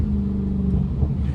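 A straight-piped Dodge Hellcat on the move gives off a close, steady, deep exhaust rumble that holds an even level from start to finish.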